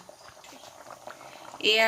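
A pot of fish curry with mustard greens bubbles and boils on a gas stove, swelling into a loud, close rolling boil at the end, with someone talking over it.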